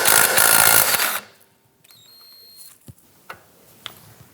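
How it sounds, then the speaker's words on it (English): A socket wrench ratchets rapidly to loosen a nut on a 1997-2006 Jeep Wrangler front upper control arm, then a few faint metallic clicks and taps follow, close and without talk. "Use our socket on the other side, loosen and remove the nut."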